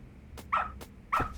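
Two short, sharp dog barks sound close and clear in the video game Lost Judgment, evenly spaced over a quiet background.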